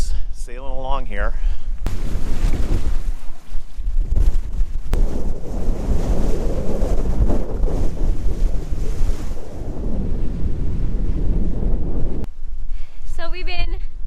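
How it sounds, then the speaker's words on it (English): A sailboat under way near the Columbia River bar, with strong wind buffeting and rushing water surging steadily around the hull; a person speaks briefly at the start and again near the end. "We're just sailing along here."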